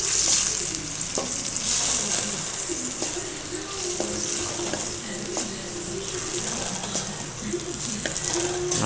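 Tomato paste sizzles steadily in hot oil in a pan for pasta, with a continuous frying hiss and faint scraping of stirring throughout.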